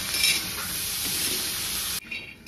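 Water splashed onto peanuts roasting in a hot pan bursts into a loud, steady steaming sizzle that cuts off abruptly, leaving a quieter hiss at the close.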